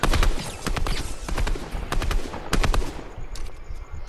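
Gunfire in the battle royale game Fortnite, with quick clusters of sharp automatic shots in close bursts separated by brief pauses.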